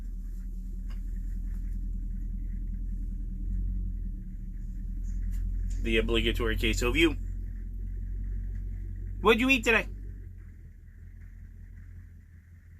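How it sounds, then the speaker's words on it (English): A truck passing outdoors: a low rumble grows louder, then fades, under two short bursts of talking. "Yes, you hear the truck."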